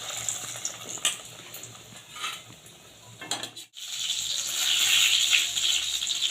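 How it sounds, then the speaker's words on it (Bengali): Gram-flour-battered pointed gourd pieces go into hot oil, a steady bright sizzle that swells louder after a brief pause as more pieces are dropped in, with occasional spoon clinks and no talk. "এবার এইভাবে চামচ করে নিয়ে আমি তেলের মধ্যে ছেড়ে দিচ্ছি"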